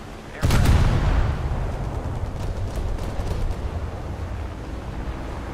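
A heavy warship gun salvo in a naval game booms out with a loud blast, then rumbles and decays into a long low roll of distant fire and sea noise.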